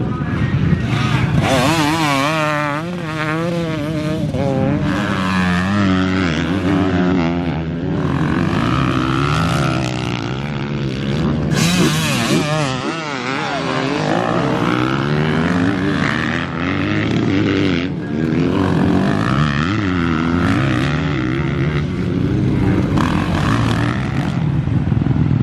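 Motocross bikes in an over-40 veterans race at the ACU British Vets Motocross Championship blast past in a continuous loud roar, engines revving and wailing as several riders pass close by one after another.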